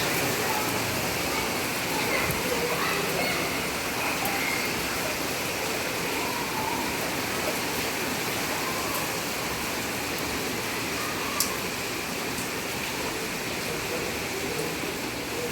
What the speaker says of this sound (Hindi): बाहर हो रही है बहुत तेज़ वाली बारिश